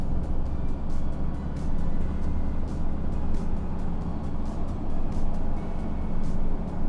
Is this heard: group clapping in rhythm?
no